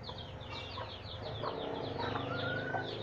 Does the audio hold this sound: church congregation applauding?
no